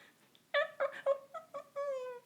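A person mimics a cat's whine, several short nasal meow-like cries followed by one longer drawn-out wail, close and fairly loud.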